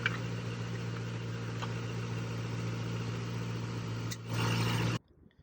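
A 2005-2009 Ford Mustang GT 4.6 S197 gives a low, steady engine drone that swells briefly near the end before cutting off abruptly. No one speaks.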